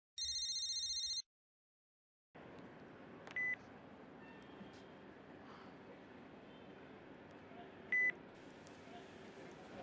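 A phone rings unanswered: a brief electronic ringtone burst, then silence, followed by a quiet room hiss with two short beeps several seconds apart, faint and without clear talk.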